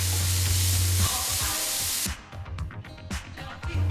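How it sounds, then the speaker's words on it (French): Onion and lardons frying in olive oil in a pan for tartiflette, a loud steady sizzle that drops after two seconds into quieter crackling and spitting. "faites revenir l'oignon"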